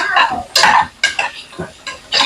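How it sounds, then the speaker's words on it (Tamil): Pan clatter and stirring as millet biryani ingredients are sautéed: a series of sharp metallic scrapes and knocks of a spoon against the pan, close and fairly loud, with no talk. "நல்லா வதக்கணும்."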